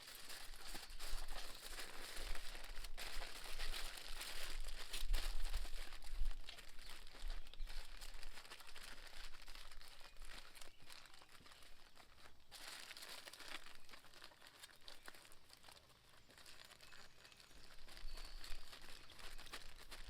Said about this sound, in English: I ended up using additional foil to then wrap over after turning it 90 degrees